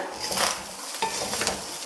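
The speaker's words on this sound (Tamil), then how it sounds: "இப்போ இது ரெண்டும் சேர்த்து நல்லா கிளறி விடுங்க" Egg fried rice is stirred and tossed in a hot pan, a steady sizzling scrape with brief clatters of a utensil against metal.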